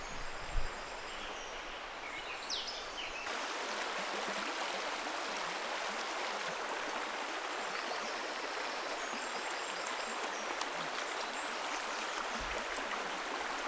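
A stream flows over rocks near an old bridge, a steady, dense hiss of moving water running evenly throughout, with a faint thump at the start.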